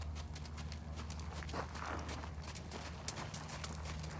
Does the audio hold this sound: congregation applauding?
no